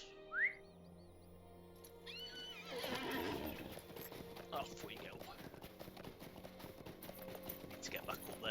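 A horse in the Lord of the Rings Online video game whinnies sharply, then gallops off with steady clip-clop hoofbeats that continue to the end; someone speaks briefly as it sets off.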